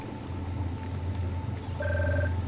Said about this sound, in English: Oh, that phone.